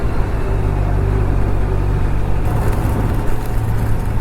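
A Kawasaki Z900 motorcycle engine rumbles loudly and steadily while riding, with a low, droning engine tone and wind noise; the pitch shifts slightly midway as the ride continues.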